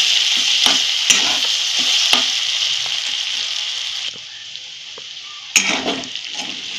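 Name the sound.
potatoes frying and being stirred in a pan for sabudana khichdi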